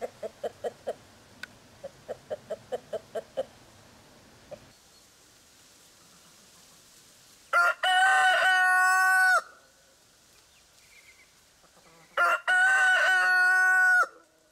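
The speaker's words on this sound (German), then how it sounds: "bewundere ich den Hahn, der so intensiv für seine Familie sorgt." A rooster at a farmhouse gives two loud, close crows, each lasting about two seconds, after a run of soft, rhythmic clucking at the start.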